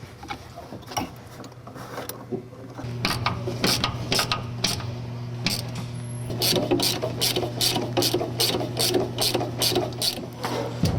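Bolt being fitted for the brake master cylinder rod and brake pedal on a Ford F100 during a TREMEC Magnum installation, with a rapid series of ratcheting clicks and metallic clinks over a low hum, louder in the second half.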